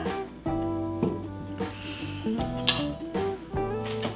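A knife clinks and rattles as it is lifted from among plates and cutlery beside a ham ball appetizer, soft scattered taps and chimes over a faint musical background, close by.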